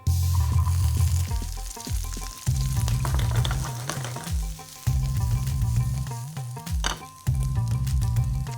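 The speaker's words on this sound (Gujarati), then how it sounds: "ઓઇલ ગરમ છે હવે એની અંદર એક કપ જેટલા વેજીટેબલ્સ નાખીશું" Carrots, onions and capsicum hit hot vegetable oil in a pan, giving a loud, steady sizzle with repeated stirring scrapes and clinks throughout, with no speech.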